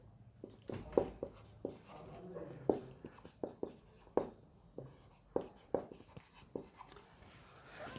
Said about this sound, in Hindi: थोड़ा रिएजेंट लिखता हूं